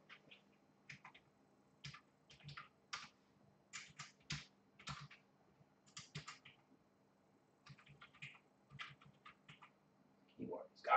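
Bursts of clacky computer keyboard typing in irregular clusters of rapid keystrokes, close and fairly crisp, with quiet pauses and a low electrical hum underneath.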